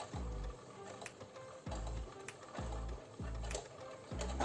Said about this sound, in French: On coud tout droit jusqu'au prochain repère violet.